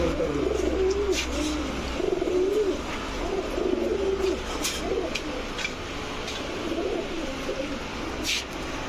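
Racer pigeons, including a white grizzle cock, coo in low repeated murmurs throughout, fairly close, with occasional brief higher chirps and a steady background hum; no speech.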